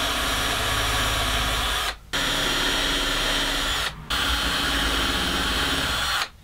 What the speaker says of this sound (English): I'm just going to use a countersink bit and drill a couple of pilot holes to mount this thing on the wall